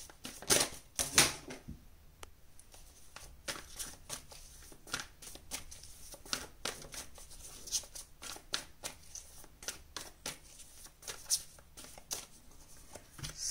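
Tarot cards being shuffled and drawn from a deck, a quick run of crisp flicks and slaps, close and fairly quiet, with no voice over them.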